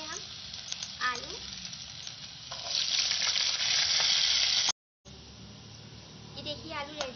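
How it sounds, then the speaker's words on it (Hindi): Potatoes with garlic-ginger paste fry in about half a cup of hot oil in a pan, giving a steady crackling sizzle that swells midway, breaks off briefly, then resumes with occasional stirring clinks. "एक पेन में हमने आधी प्याली ऑयल गरम कर ली है, जिसे आप देख रहे हैं। इसमें ऐड करेंगे हम लहसुन अदरक का पेस्ट, और इसमें ही ऐड करेंगे हम आलू।"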